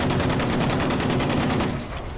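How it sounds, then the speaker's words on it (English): A gunner's heavy gun in Battlefield 5 fires a loud, rapid stream of shots in a tight rhythmic burst lasting about two seconds, then cuts off. "That wasn't me who just shot. That was my gunner."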